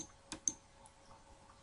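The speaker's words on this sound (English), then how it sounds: "select practice by clicking on the black square" Computer mouse clicks while software settings are selected, two faint, sharp clicks close together, then quiet, with a low steady hum underneath.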